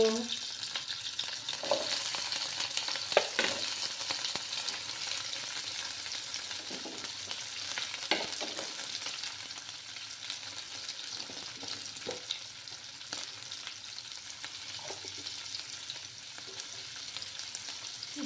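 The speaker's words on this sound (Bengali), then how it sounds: "এবার আমি লটে শুটকিগুলোকে একটু ফ্রাই করে নেব।" Lote dry fish frying in a pan over lowered heat, a continuous sizzle with scattered pops and occasional stirring scrapes, close and moderate in level, no talking.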